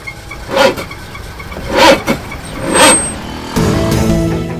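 A car engine in traffic gives three separate rising bursts, like revving or passing vehicles, then settles into a steady low hum near the end, with no talk.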